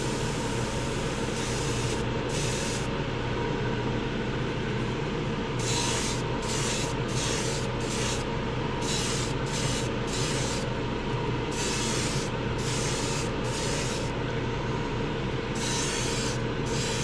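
Short spray-paint bursts hiss in an irregular rhythm of about a dozen puffs as a thin coat goes onto an Auto World slot car, close and loud over a constant mechanical background hum.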